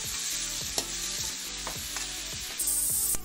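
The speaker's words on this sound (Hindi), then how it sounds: "यहीं पे मैं कुछ प्याज डाल दे रही हूँ कटे हुए बारीक बारीक, और उसी साथ में डाल रही हूँ टमाटर" Finely chopped onions and tomatoes sauté in a pan for chana chaat, with a steady sizzle under repeated scraping spoon strokes at a loose, regular rhythm, close and moderately loud.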